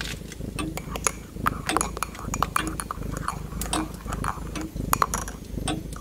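Cups, dishes and cutlery clink and tap in a home kitchen while a mug of hot chocolate is prepared, a steady run of small bright clinks under a constant background hum.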